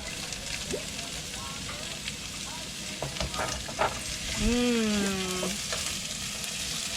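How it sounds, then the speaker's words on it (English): Onion, garlic, pepper and ginger hit a hot pan in a boat galley and fry with a loud, continuous sizzle, while a voice speaks briefly over it. "here goes the onion, the garlic, the pepper, and the ginger"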